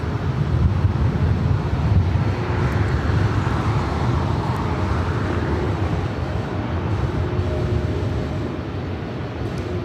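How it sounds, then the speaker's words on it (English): Cathay Pacific Cargo Boeing 747-8 freighter taking off at Los Angeles airport, a steady, broad low roar of jet engines with wind-buffeted rumble that holds loud throughout and eases slightly toward the end. "That is Cathay Pacific Cargo 2090 taking off to Portland"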